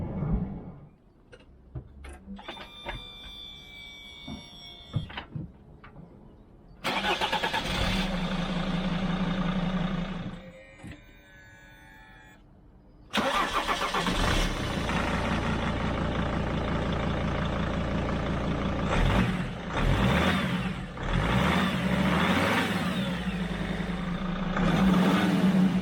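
A Mercedes Sprinter van engine starts and runs, settling into a steady idle that is loud and close, with a brief break before it fires up and runs again under a low rumble.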